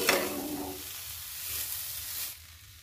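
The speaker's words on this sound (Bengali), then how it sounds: "আলুগুলো দিয়ে এবার ভালো করে আমি নেড়ে চেড়ে ভালো করে নাড়িয়ে নেব" Grated potatoes fry in a pan with a bright burst of sizzle at first, then a steady hissing fry as they are stirred, close by, fading lower near the end with nobody talking.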